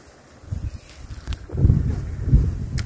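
Strong wind gusting outdoors beside a flowing river, a low rumbling buffet that swells and stays loud through the second half, with rustling and a brief faint high tick near the end.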